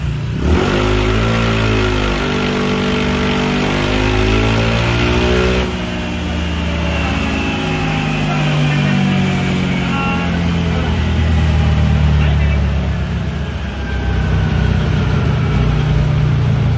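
A Honda ADV 160 scooter engine revs hard and holds steady during a remap test, a loud continuous drone with rising and falling pitch sweeps, close by, with talk over it.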